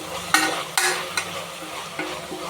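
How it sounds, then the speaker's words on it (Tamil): Brinjal and sautéed vegetables stirred in a pan for a vegetable kurma, several sharp scraping strokes of a spoon over a soft background sizzle, close and fairly loud with no talking. "கட் பண்ணி எடுத்த கத்திரிக்காவை இதில் போட்டுக்கலாம். இதையும் ஒரு தடவை நல்லா கலந்து விட்டுக்குங்க."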